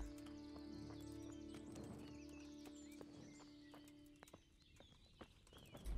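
A horse in the game Kingdom Come: Deliverance, heard fairly close with a whinny and a few hoof sounds over a sustained low musical drone, fading near the end.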